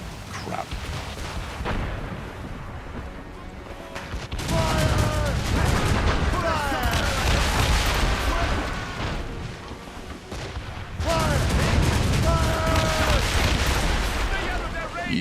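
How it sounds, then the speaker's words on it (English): Mortar fire rumbles through a battle in Assassin's Creed Rogue, with dense booming bursts in two heavy waves over a continuous low roar of combat and other game effects. "Making heavy use of mortars."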